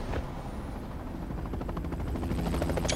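A helicopter in the Dying Light Bad Blood video game thumps loudly and steadily with its rotor chop. The roar of the engine holds close and continuous throughout.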